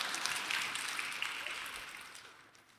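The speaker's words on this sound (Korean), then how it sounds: "박수는 안 해도 돼요." A church congregation applauds, a sustained even wash of many hands clapping at a moderate distance in a large hall, slowly fading toward the end.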